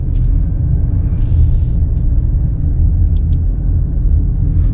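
Low steady road rumble inside a Mazda CX-5 2.0 GL cabin while driving, a continuous muted hum with faint passing hisses and no talk.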